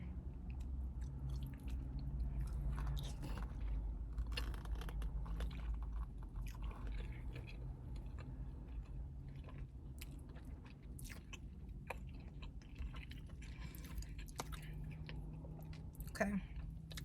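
Chewing Jamaican-style shrimp close to the mic, soft wet crunching and biting sustained over a steady low background, with a brief louder bite near the end.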